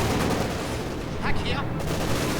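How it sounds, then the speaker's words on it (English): A Pak-43 anti-tank gun fires amid a dense wartime battle in the strategy game Company of Heroes 2, with booming shots and rumbling fire under a constant wash of combat noise. "Pak-43 opening up."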